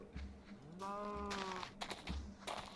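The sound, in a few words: sheep bleating in a video game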